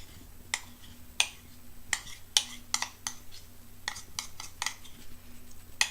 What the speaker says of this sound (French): vu qu'il reste un peu de chocolat dans mon bol, bah, je racle